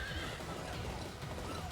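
A horse neighs and whinnies in the video game Fire Emblem: Three Houses, a steady close whinny over a dense game soundscape with clip-clopping hooves underneath, with no voices.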